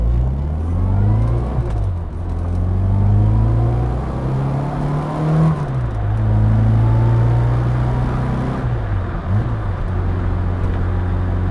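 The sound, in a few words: 1963 Austin Mini Cooper driving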